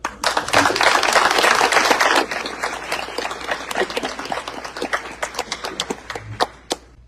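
An audience applauds to welcome a keynote speaker at a chamber event in Trumann, Arkansas: a full burst of clapping for about two seconds, then thinning into scattered individual claps that trail off.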